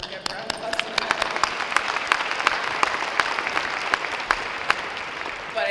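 A banquet audience at a women's basketball end-of-year celebration claps in a dense, sustained round of applause, with sharp individual claps popping out above the steady patter for several seconds.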